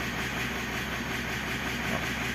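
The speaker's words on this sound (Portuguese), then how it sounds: "Então eu constato aqui que o motor tá fora do ponto, do sincronismo" The 4N15 engine of a 2018 Mitsubishi Triton with its timing out of sync runs close by with a loud, continuous mechanical rumble and clatter, steady throughout and without voices.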